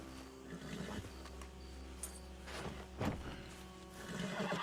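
Horse in the Red Dead Redemption 2 video game snorting and whinnying among quiet game ambience, with a few faint hoof and rustle sounds, soft and fairly close.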